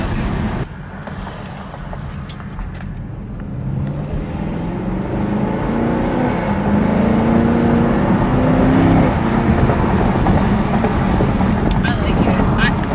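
Steady engine and exhaust drone from a newly bought car while driving, a continuous low rumble that slowly rises in pitch as it accelerates, with wind noise and faint talk in the cabin.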